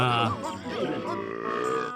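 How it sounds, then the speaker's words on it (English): A creature in the video game Banjo-Tooie lets out a drawn-out, throaty, grunting burp, loud and close, with a gurgling voiced tone. "Jeez, the burping noises, man."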